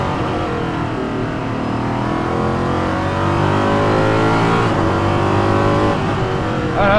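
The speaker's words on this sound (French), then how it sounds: "Le gros son du V8." A Ligier JS P320 LMP3 race car with a V8 accelerates out of the pit lane onto a cold track, its loud, steady engine drone climbing in pitch through a gear change, heard from inside the car.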